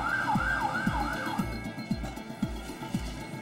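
An ambulance siren wails in a steady repeating two-tone pattern, fairly close, with engine rumble beneath and no talking.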